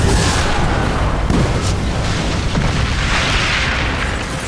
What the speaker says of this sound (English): Dude, those mortars are insane.